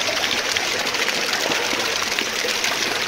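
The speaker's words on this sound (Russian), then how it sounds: "Вот смотри, эти ручьи до сих пор воют" A stream of water rushes and gurgles steadily in the Sacred Valley. The even, close flowing noise continues without a break, and no voices are heard.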